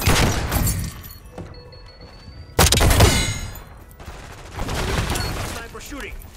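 Bursts of gunfire ring out in the video game Black Ops 6, loud rapid shots with clanging impacts, one sharp heavy blast midway and quieter volleys trailing off.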